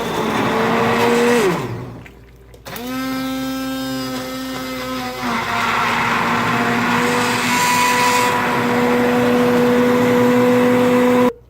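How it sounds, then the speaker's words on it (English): An emulsion blender runs in seasoned spaghetti sauce, its motor a loud, steady whine that drops out briefly near the start, then restarts and shifts pitch as it churns through the blend. "for the sauce we take our emulsion blender once all your seasonings are added in. And you just blend until the desired consistency."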